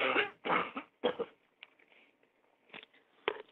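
Several harsh coughs in quick succession, close and loud, followed by quieter throat-clearing sounds and a couple of short coughs near the end.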